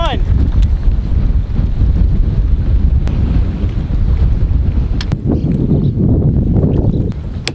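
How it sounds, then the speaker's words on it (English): Strong wind buffets the microphone outdoors beside the water, a loud, continuous low roar with gusty surges and scattered clicks close by. "It's getting too windy out here."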